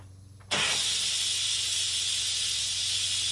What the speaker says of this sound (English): Be very careful, because that steam is hot.